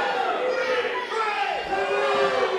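Crowd at an intergender wrestling match in McKeesport cheers and shouts continuously, with excited voices, including children's, blending into a loud, close roar.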